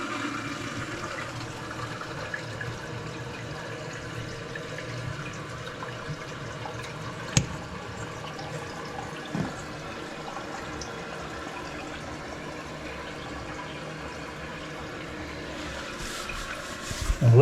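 A Toto toilet tank refilling through a newly installed fill valve, a steady broadband rush of water flowing continuously and evenly at close range with a couple of faint clicks.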